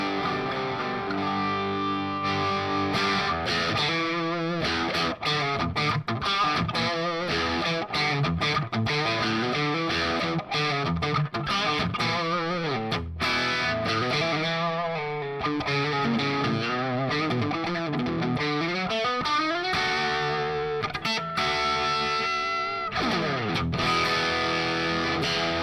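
A 1961 Gibson Les Paul Junior electric guitar plays through heavy distortion, a continuous run of chords and riffs with strong sustain and frequent picked attacks, loud and alone throughout.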